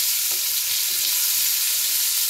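Onions frying in a pan with salt added for a tomato, onion and garlic chutney give off a steady, fairly loud sizzle throughout, with a few soft stirring knocks and no voices.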